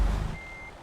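A truck's reversing beep in Euro Truck Simulator 2 sounds once, a single clear tone following a low engine rumble that fades.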